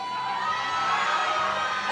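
Spectators cheering for a high school powerlifter from Germantown High School at a powerlifting national meet, a brief burst of crowd shouting and whooping at moderate distance.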